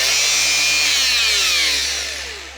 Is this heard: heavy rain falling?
no